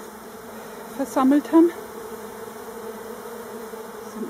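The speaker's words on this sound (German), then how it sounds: "Es sind überall noch viele Bienen unterwegs." Honeybees from an opened Warré beehive buzz steadily around it, a continuous close hum with a couple of louder passes near the microphone while someone speaks German briefly.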